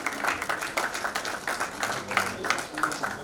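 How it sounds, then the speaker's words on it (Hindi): Audience clapping for a nursing institute at a certificate award ceremony in Lucknow, a modest, fairly distant patter of hands heard at low level without a strong build. "शुभकामनाएं, रूपी तालियां आती रहनी चाहिए"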